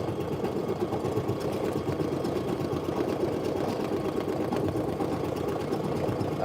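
An embroidery machine stitches a patch with a steady, loud mechanical whir and a fast, even needle rhythm that continues unbroken throughout, with no voices.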